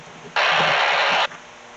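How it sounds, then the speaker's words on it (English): A radio scanner or pager left on an open channel gives off a single burst of broadband static lasting about a second. The burst starts and stops abruptly against a quiet outdoor background. "that noise you heard was my scanner, or my pager."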